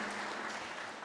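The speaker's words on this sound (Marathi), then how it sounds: "टाळ्या वाजवून सांगितलं तर आम्हाला मंजूर वाटेल" Applause from attendees at a cooperative credit society's annual general meeting, signalling approval of a resolution; a steady, dense clapping wash fills the whole short moment without any talk.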